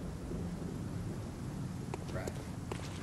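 Steady rain falls in a Bloodborne game scene, with a dense hiss of downpour and a low rumble of thunder running throughout, plus a few brief sharp clicks and spoken remarks near the end.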